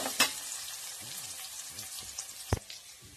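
Sliced ginger sautés in a pan with a soft, continuous sizzle, interrupted by a few sharp clicks of a spoon against the pan, the loudest near the end.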